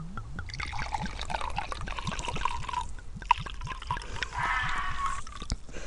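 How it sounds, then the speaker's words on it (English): Wine glugs steadily into a glass outdoors in a dark graveyard at night, a rhythmic gurgling pour running continuously at close range with no talk over it. "Let's pour a glass of wine."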